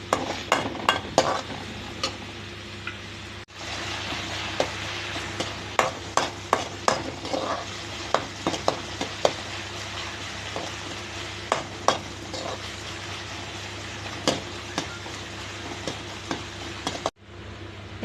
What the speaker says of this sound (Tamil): ஒரு பெரிய வெங்காயம் கட் பண்ணி வச்சுருக்கேன், அதை போட்டுக்கலாம்.